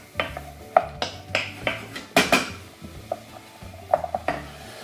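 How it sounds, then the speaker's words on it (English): Carrots and vegetables are stirred in a cooking pot, with a utensil scraping and knocking against the pot in a series of close, irregular clatters. "Another wee stir."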